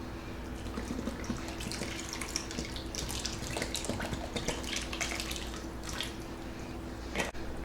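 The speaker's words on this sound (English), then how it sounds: "Now let's pour in our clamato juice." Clamato juice pours into an octopus cocktail in a steady, close liquid trickle with small splashy drips, continuous and moderately loud, with no talk.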